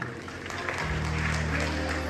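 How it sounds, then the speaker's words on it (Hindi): Guests at an award show break into hearty applause of welcome. Dense clapping runs steadily throughout, with a low hum or music tone sitting beneath it. "एक बार जोरदार तालियां"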